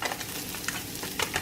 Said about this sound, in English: I'm going to start off by sauteing this garlic,